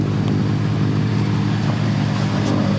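A sailboat motors the last few miles into harbour under engine power, a steady low droning hum that runs unbroken throughout, with no talk.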